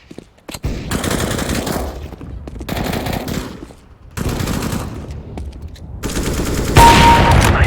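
Automatic gunfire in Counter-Strike: Global Offensive team deathmatch on the Mirage map, loud close bursts of rapid shots lasting a second or two each, separated by brief pauses, ending in a sustained volley.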